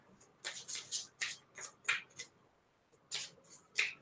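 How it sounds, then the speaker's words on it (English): Tarot cards are shuffled close up in a quiet room, a series of soft riffling bursts in uneven rhythm with brief pauses between them and no talking. "I'm going to shuffle the cards."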